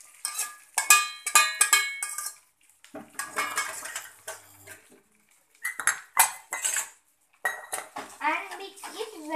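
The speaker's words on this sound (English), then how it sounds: "And mix it well till all the poha turns yellow in color." Flattened rice poha being stirred in a pan for kanda pohe, with repeated bright scraping and clinking of a metal spoon against the pan in irregular bursts, separated by short pauses.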